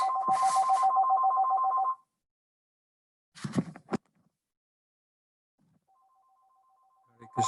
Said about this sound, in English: my stupid office telephone is ringing.